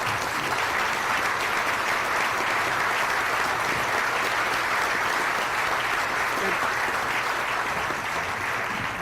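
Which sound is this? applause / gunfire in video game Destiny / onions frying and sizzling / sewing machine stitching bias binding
applause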